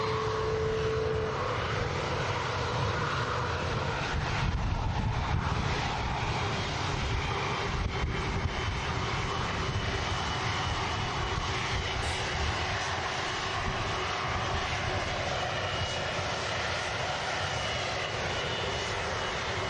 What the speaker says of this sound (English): Airbus A320neo just touching down from British Airways, coming in from London Heathrow.